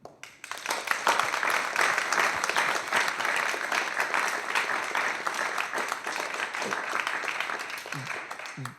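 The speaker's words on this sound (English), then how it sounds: "I am going to do a huge round of applause for Jean and for her incredible book" A large audience applauds after a book talk, a dense and steady wash of clapping that starts sharply and holds at full strength for several seconds without pause.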